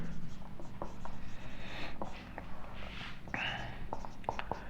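Pen or marker writing math equations on a board during a lesson, quick scratchy strokes and taps in bursts, under a teacher's soft ongoing speech.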